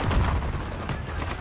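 Gunfire bursts in the Black Ops 6 campaign: a dense, loud fusillade of overlapping shots and booms with rough, rapid impacts and no talking.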